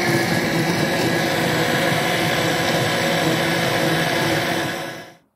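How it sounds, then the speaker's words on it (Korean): A blender grinds boiled soybeans with water and a little sugar into soy milk for cold soybean noodle soup. The motor roars loud and constant, with no talk, then winds down sharply at the end. "자, 이제는 곱게 갈아요."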